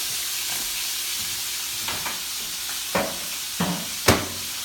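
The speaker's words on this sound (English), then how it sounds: "they want to be in a saute pan getting crisp on each side" Soft, even sizzle of potato latkes frying in a saute pan, with a few sharp clacks and scrapes of a utensil toward the end.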